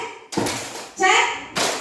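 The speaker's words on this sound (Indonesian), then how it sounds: "sekarang kalau saya bilang song, tepuk pahanya" An audience at a teachers' literacy event in Central Lombok slaps their thighs in unison, a few quick group smacks in a steady rhythm, close and fairly loud, with a voice calling the cues in between.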